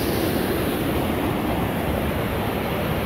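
Loud, continuous roar of rushing flood water and melting ice on the Hay River, a dense steady wash of noise with no breaks, close by.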